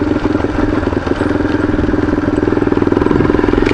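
Electric-start dual-sport motorcycle idling on a forest service road in the north Georgia mountains: a steady, loud low throb with rapid even pulsing and light mechanical clatter, continuous and close throughout.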